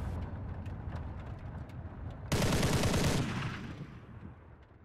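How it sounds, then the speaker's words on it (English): Anti-aircraft guns in War Thunder fire a dense burst of rapid shots at mid distance, a loud stretch of gunfire standing out for about a second before trailing off into the airfield's background rumble. "I don't know what the AAA is firing at there on my left."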